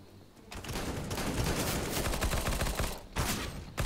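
Gunfire in the video game Counter-Strike: Global Offensive, a dense stretch of rapid shots that runs for several seconds, breaks off briefly, then resumes with a short burst, fairly quiet in the mix.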